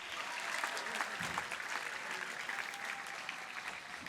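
Audience applause at a summit inauguration ceremony, a steady dense wash of clapping hands filling the room for several seconds without a break.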